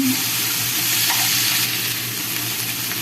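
Vegetables seasoned with pepper fry in a pan, a dense, constant sizzle close by with soft stirring scrapes mixed in, and no voices.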